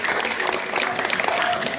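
A school audience at SMPN 3 Amlapura applauds candidates for student council chair: continuous, busy clapping from a hall crowd, loud and fairly even, with faint voices mixed in beneath.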